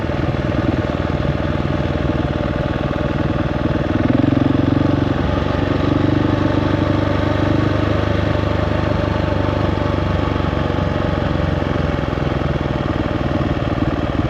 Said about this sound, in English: Add a little engine braking in it.